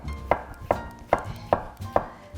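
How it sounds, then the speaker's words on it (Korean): King oyster mushrooms sliced with a knife on a cutting board: five evenly spaced, crisp chopping knocks about every 0.4 seconds, close and clear with quiet background between strikes. "모든 재료는 탕이니까 먹기 좋게 이렇게 너무 크지 않게 썰어 주시면 되고요"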